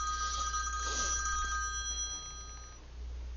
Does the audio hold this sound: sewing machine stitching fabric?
no